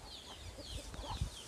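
Free-range country chickens forage under trees in the afternoon, giving soft scattered clucks at a distance over faint outdoor ambience.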